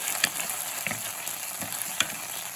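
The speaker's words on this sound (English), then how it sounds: "Our ginger. Let's saute that up a little bit." Ginger with chilies sautéing in a pan for a numbing, spicy eel dish, a steady close sizzle broken by a few sharp stirring clicks.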